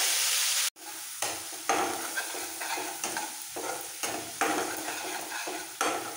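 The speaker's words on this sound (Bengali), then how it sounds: "এবার এর মধ্যে দিয়ে দেবো মেথি শাক। এখানে ওই মিহি করে মেথি শাকটা কুচিয়ে নিয়েছি, সব শাকটা দিয়ে দিলাম। একটু ভেজে নেব শাকটা।" Finely chopped fenugreek leaves frying in hot tempering oil, a steady close sizzle broken by repeated rhythmic scrapes of a spatula stirring the greens, with no talking.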